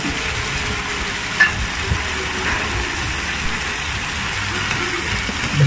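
Chicken sizzling in hot oil in a pot for Filipino tinola, a steady, fairly loud frying hiss with a couple of faint knocks, close by and without talk.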